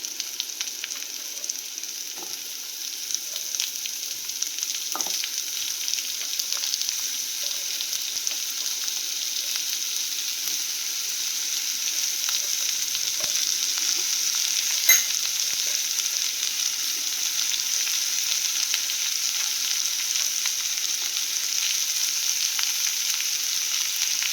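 Yellow pumpkin pieces sizzle and fry steadily in a pan as they are stirred for a Tamil kootu, a continuous close crackle with occasional soft scraping ticks and no talking.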